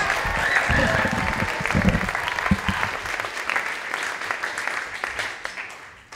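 At a library teen poetry slam, the audience applauds as a poet comes to the stage, warm sustained clapping with voices mixed in, gradually thinning and fading toward the end.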